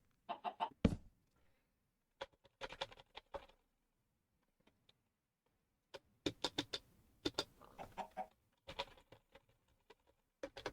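Blocky Minecraft chickens on a Skyblock island, a string of short clucks and squawks in scattered bursts with quiet gaps between, fairly close and clear with no talking.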